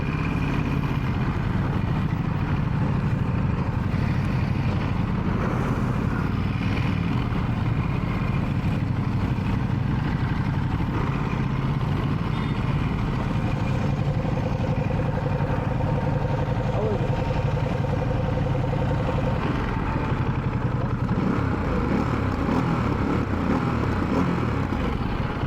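A Ducati Monster 696 motorcycle engine hums steadily throughout a test ride, with someone talking over it.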